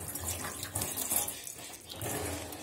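Tap water runs steadily into a sink while leaves are washed, a continuous moderately loud splashing flow with no voices.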